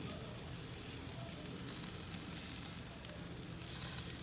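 Marinated meat coated in olive oil sizzles steadily on an Americana Walk-A-Bout portable grill, a continuous bright crackling hiss with one sharp pop near the end, close and fairly quiet.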